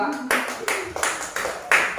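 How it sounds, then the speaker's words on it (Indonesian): A small group claps hands in a classroom training session, with several short bursts of clapping close by and loud. "Tepuk tangan di kelompok 2."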